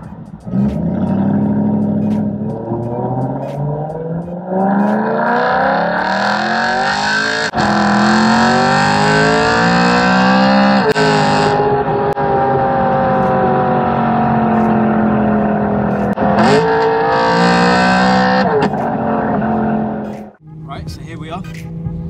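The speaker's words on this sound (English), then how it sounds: "we'll go for a little drive, just to give you guys a feel of what it actually drives like and what it sounds like" A BMW E92 M3 with the 4.0 V8 and DCT gearbox is driven, its engine note loud and continuous, rising in pitch through repeated gear pulls with brief dips at shifts, heard from close by.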